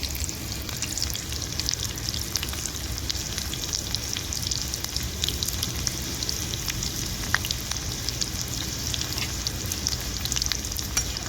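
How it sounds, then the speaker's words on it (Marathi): Finely chopped onion and green chillies sauté in hot oil with a dense, continuous close sizzle and scattered clicks of stirring throughout. "आता कांदा मी परतून घेते"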